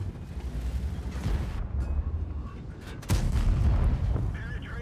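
A tank cannon fires in the video game World of Tanks, played as the E50M. A sharp, fairly quiet boom stands out about two-thirds through a low rumbling battle background, with a player talking.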